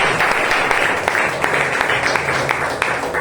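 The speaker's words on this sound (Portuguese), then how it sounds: "Aplauda Jesus, glória a Deus, em nome de Jesus." A church congregation applauding during an evangelical service, loud, close clapping with sharp individual claps standing out, and voices faintly mixed in.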